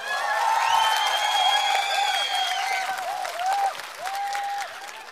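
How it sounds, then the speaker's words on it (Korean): Sustained applause from a crowd at an outdoor mountain village concert held at a middle school, a dense wash of clapping lasting several seconds, with a singer's voice and a sustained melodic tone drifting above it. "우리 아이들이 더 큰 꿈과 희망을 가질 수 있도록 응원의 박수 한번 부탁드릴게요"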